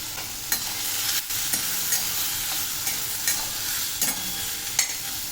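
Chilli powder and sambar masala sizzle in a pan as a spoon stirs them, steady frying hiss broken by regular scraping clicks about every second.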